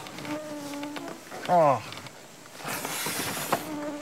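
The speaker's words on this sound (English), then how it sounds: "mosquitos, mosquitos." A swarm of mosquitoes during bug season in the Temagami wilderness makes a thin, continuous whining buzz close to the ear, while a man briefly exclaims over it.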